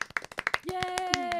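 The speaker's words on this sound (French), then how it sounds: "même applaudissements dans la salle d'enregistrement." A quick run of hand claps in a recording room, sharp and close, then a voice cheers over a few more claps.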